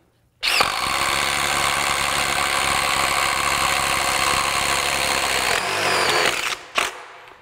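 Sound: DeWalt impact wrench hammering a bolt

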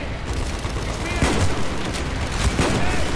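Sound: MP40 gunfire in the video game Call of Duty: Black Ops

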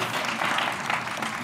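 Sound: audience applause

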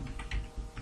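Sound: typing on a computer keyboard

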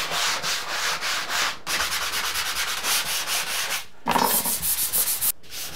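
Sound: hand sanding joint compound on a drywall wall

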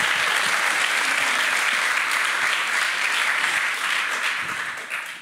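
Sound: audience applause at a column festival

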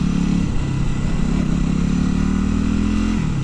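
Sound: Yamaha WR250X motorcycle stock exhaust popping

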